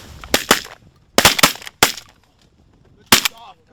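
Shotgun blasts fired at late-season mallard ducks during a duck hunt, several sharp, loud shots in quick pairs and singles outdoors, with faint background noise between.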